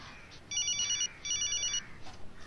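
A telephone rings with two bursts of a bright electronic trill, fairly faint against a quiet room.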